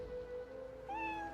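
A cat in the Divinity Original Sin 2 video game gives a single short, clear meow, rising then sliding down, close and alone over faint game ambience.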